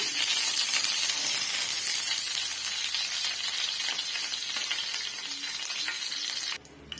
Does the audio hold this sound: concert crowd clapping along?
no